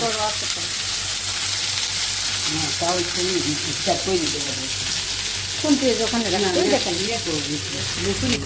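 Dried-fish chapa puli dumplings frying in oil, a constant close bubbling sizzle running the whole time while someone talks over it.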